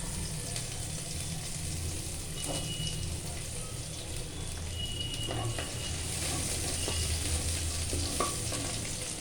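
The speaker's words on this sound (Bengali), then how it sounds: "প্রথমে আমি তেলে দিচ্ছি গার্লিক, রসুন দিলাম, কুচনো পেঁয়াজ" Garlic and chopped onion fry in hot oil for Indian-style Singapore veg noodles, giving a dense, continuous close sizzle with a few faint stirring knocks.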